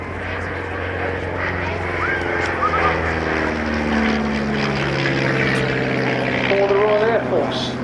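A 1932-design de Havilland Tiger Moth biplane trainer drones overhead at the Halton Air Show with a steady propeller-engine hum. A commentator talks over the engine throughout.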